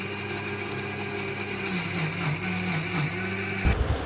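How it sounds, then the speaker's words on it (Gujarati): Electric mixer grinder whirring steadily as it grinds garlic, ginger, coriander, chili and lemon in its jar. A loud, constant motor whine runs with slight wavering, then cuts off abruptly just before the end. "એને મિક્સર જારમાં પીસી લઈએ"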